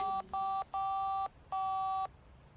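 Phone keypad dialing in The Da Vinci Code game, four clear electronic beeps of differing lengths in a quick sequence with short gaps between them.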